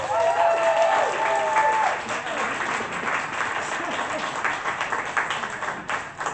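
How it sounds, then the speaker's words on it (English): An audience at a poetry slam breaks into steady applause, a dense wash of clapping that tails off gradually, with a voice briefly audible over it near the start. "Please give a huge round of applause to Senor."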